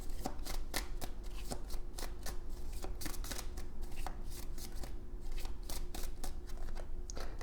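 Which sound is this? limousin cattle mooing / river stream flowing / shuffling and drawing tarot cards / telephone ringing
shuffling and drawing tarot cards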